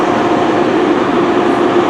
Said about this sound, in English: Yeah, I was only filming here a couple of trains.